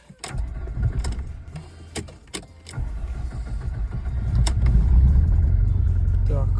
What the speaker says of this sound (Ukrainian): Будемо запускати холодну машину